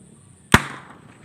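A single sharp firecracker bang set off to scare birds from a rice field, loud and close, followed by a short fading echo in an otherwise quiet outdoor setting.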